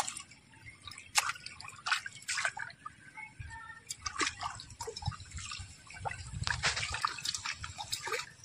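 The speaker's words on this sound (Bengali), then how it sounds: "তোমার কে শিখেছে পাট ধোয়া?" Water drips and trickles as jute fibre is washed, with irregular close splashes and patters over a soft watery background.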